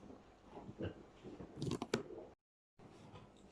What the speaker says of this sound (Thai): มาทานยำผักหอมกับรัด ยำผักหอมกุ้งสดนะคะ